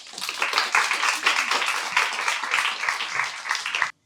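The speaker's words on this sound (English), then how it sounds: "please let's give applause to Karin Oulu Lindgård" Close, lively audience applause at a textile week event in Forssa, a dense run of clapping hands lasting about four seconds before cutting off sharply.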